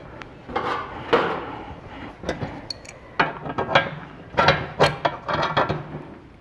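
A Teflon lock nut being tightened during StarCat assembly gives a series of close metallic ratcheting clicks and clunks. They come in irregular bursts of varying loudness, with no voices.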